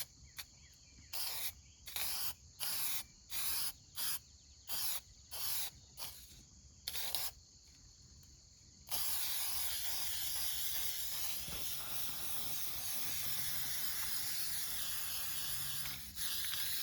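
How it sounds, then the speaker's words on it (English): Rust-Oleum appliance epoxy sprayed from an aerosol can onto a 1966 Shasta vintage camper: a series of short hissing bursts with pauses, then one long continuous spray hiss lasting several seconds, close to the microphone. "So Gary's going to spray that on there before we close up the side"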